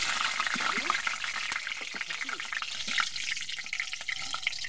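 A bay leaf and a dried chilli frying in hot oil in the pan where potatoes were just fried produce a steady, moderate crackling sizzle with small pops throughout.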